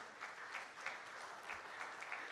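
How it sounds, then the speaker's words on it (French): Conference audience applauding as a guest is introduced, a faint, distant wash of many hands clapping with gentle swells, steady throughout. "sous vos applaudissements"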